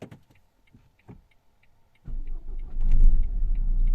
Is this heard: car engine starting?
yes